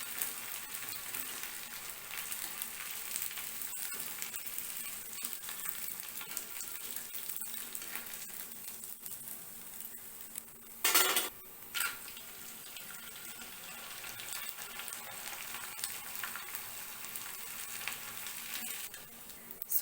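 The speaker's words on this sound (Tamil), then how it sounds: "நம்ம வத்தலை போட்டு வறுக்கலாம். சூப்பராக பொரிஞ்சு வருது பாருங்கள்." Onion vathal fries in hot oil, giving a continuous soft sizzle and crackle at low level, with a brief louder burst partway through.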